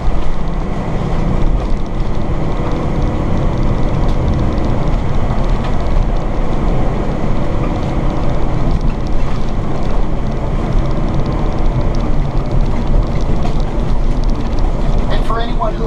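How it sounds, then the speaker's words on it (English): Steady road noise fills the cabin of a 2018 Jayco Precept 31UL motorhome driving on semi-smooth back roads, a continuous low rumble with wind hiss and no talking. "I'm going to be silent at different parts on purpose so you can hear the road noise."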